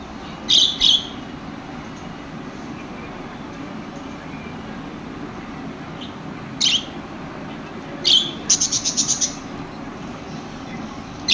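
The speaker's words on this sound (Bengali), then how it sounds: "এখানে দেখতে পাচ্ছেন একজোড়া গ্রে কোকাটেল পাখি রয়েছে" A pair of grey cockatiels in a breeding farm gives short, harsh squawking calls in a few scattered bursts, one a quick stuttering run, over steady background hiss.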